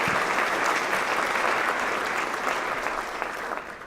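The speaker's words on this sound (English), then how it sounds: "Let's give them another round of applause" Steady applause from an audience at a 2018 staff awards ceremony honoring an exemplary support staff member, a dense even clapping that holds for about four seconds and thins slightly at the end.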